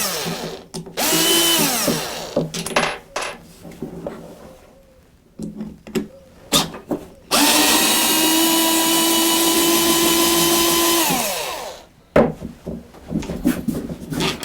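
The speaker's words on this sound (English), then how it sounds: "I use an electric screwdriver to take these screws out." An electric screwdriver whirs in short bursts and one long sustained run while backing screws out of a router, close by, with small clicks and handling noises between runs.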